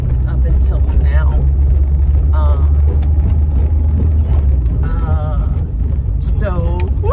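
Steady low engine rumble and road noise inside a moving car on a commute to work, continuous throughout, with a person talking over it.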